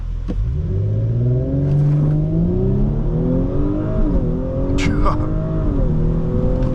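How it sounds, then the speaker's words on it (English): A 2020 Audi S4 with a 3.0-liter turbo engine launches hard using launch control. The engine note climbs loudly through several rising sweeps, with brief dips at each upshift, heard from inside the cabin with a few faint clicks. "let's try with the launch control one more time"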